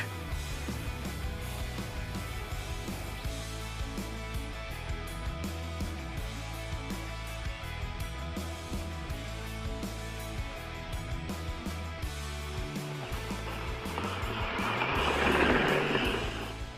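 WPL B36 Russian Ural 1/16-scale 2.4G six-wheel-drive RC military rock crawler truck driving, a steady whirring electric motor and gear drone with rattling chassis noise throughout, swelling louder near the end.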